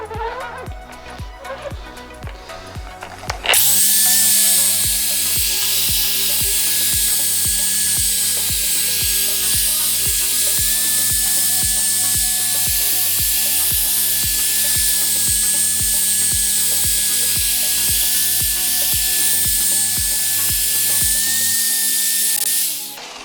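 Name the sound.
car paint polisher buffing out scratches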